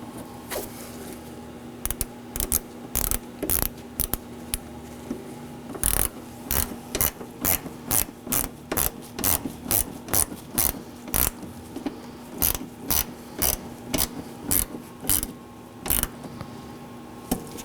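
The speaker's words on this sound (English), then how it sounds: "Now I'm going to move along to the upper corner of my bumper to reinstall the T15 torque screw." A T15 Torx screw driven back into the upper corner of a 2014-2019 Nissan Sentra rear bumper: a close, steady run of sharp ratchet clicks in a regular rhythm over a faint constant hum.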